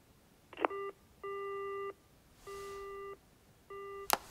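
Telephone call beeps from the Yakuza Kiwami 2 video game: four steady electronic tones in a regular on-off pattern, clear and alone, ending with a short click.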